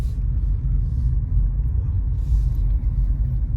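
Cars passing outside make a muffled, low rumble heard from indoors, a steady moderate drone with slight swells as vehicles go by.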